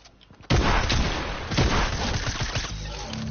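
Video game gunfire erupting suddenly: a loud close shot followed by booming bursts and rumbling reports, a second heavy blast around the middle, then decaying echoing explosions.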